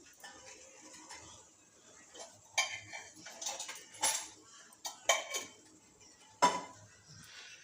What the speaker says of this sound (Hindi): अब मैं इसे उबलते हुए दूध में मैं इसे डाल देती हूँ।